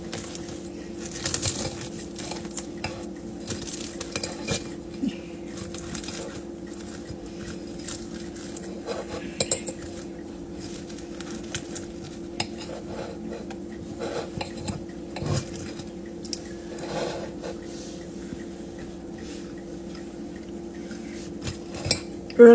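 Cutlery clinks and scrapes softly against a plate while cutting into a golden-brown fried peach pie, with scattered light taps and clicks spread over a quiet background hum and no talking.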